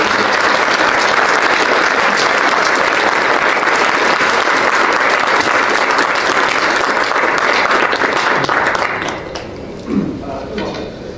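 Loud, dense applause from the audience at a police precinct awards ceremony in Flushing, New York, sustained for about nine seconds before tapering off into scattered claps and faint voices.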